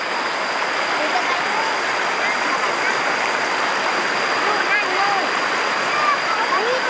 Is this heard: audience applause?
no